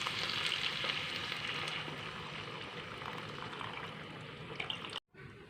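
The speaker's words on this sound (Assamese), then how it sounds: "এতিয়া মই ইয়াত গৰম পানী দি দিছোঁ।" Hot water poured onto rice frying in a pan sets off a loud, hissing sizzle that fades gradually. It ends with an abrupt cut near the close, and no one speaks.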